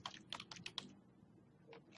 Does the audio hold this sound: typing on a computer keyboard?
yes